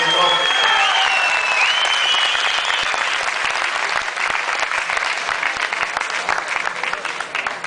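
An audience gives sustained, loud applause for bodybuilder Mitko Dimitrov during a guest posing appearance, with a voice speaking over the clapping at first before the applause carries on alone.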